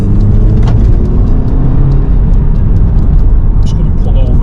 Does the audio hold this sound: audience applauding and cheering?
no